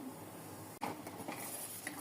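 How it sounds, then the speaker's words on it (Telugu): Vermicelli tipped into a pot of boiling water with a little ghee and stirred, a quick soft splash and clatter against the pot followed by a low bubbling simmer, faint and close, with no talking. "ఈ మరిగే వాటర్లో సేమియా వేద్దాం"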